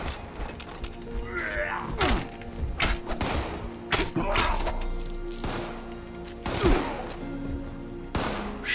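Gunfire rings out in Fallout 76, a scattered series of sharp shots and thuds at irregular intervals, some close and loud, others softer, under occasional talk.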